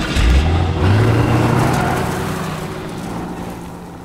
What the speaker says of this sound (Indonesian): si wanita segera membawa Snake pergi dari sana dengan menggunakan mobil